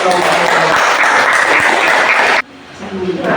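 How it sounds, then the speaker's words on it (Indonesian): Audience applause at a school presentation of a sustainable-lifestyle project, a dense, loud wash of clapping that stops abruptly after about two and a half seconds, leaving quieter room noise and murmuring. "kita berikan aplaus untuk"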